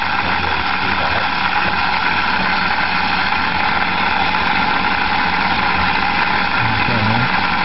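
Small permanent magnet motor spinning steadily at about 4,200 RPM, a continuous whirring hum with a high-pitched whine, loud and close, holding steady throughout with no talk.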